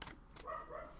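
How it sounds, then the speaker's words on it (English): A household dog barks in the background indoors, a few short, moderately loud barks in quick succession with no talk over them. "sorry about the dog in the background."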